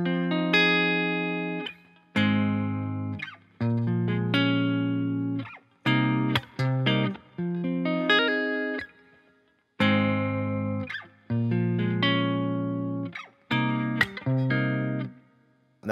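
Acoustic guitar playing a song's pattern with finger-picked strings and knuckle taps on the body, in repeating phrases of ringing notes cut by brief pauses and sharp percussive hits, played solo and close.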